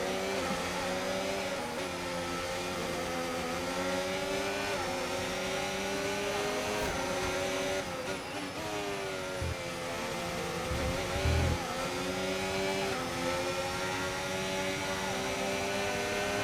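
Formula 1 car engines in the F1 25 game whine at high revs in a continuous, close drone with shifting pitch as the cars jostle for position, with faint talk beneath.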